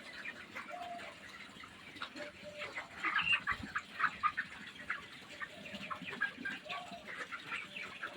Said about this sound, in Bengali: এই হলো পোলট্রি ফার্ম। মোটামুটি এখানে 1500 মুরগির বাচ্চা আছে।